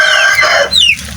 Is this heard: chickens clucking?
yes